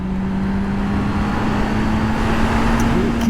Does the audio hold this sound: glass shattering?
no